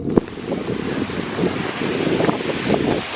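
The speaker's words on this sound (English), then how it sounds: "It is really quite windy." Strong wind roars steadily into the microphone beside a narrowboat, with buffeting gusts and a broad rushing noise throughout.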